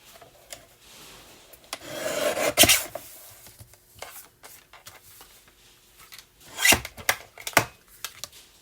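Paper is cut in half on a trimmer, with a rasping slide around the middle and another quick cutting stroke later, close and fairly loud among quieter handling rustles.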